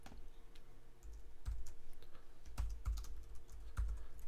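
Keys clack on a computer keyboard as a folder name is typed on a Mac, a quiet, irregular run of close clicks and taps with no voices.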